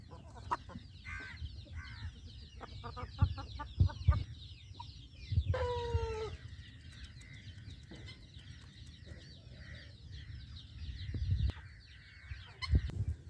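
Young eight-month-old fighting-breed roosters offered for sale cluck and call nearby, with scattered sharp clucks and one rising crow-like call over a low background rumble, no talk.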